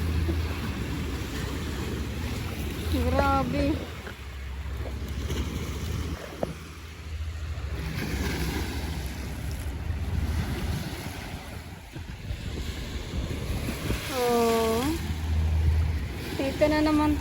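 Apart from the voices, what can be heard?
strong ocean waves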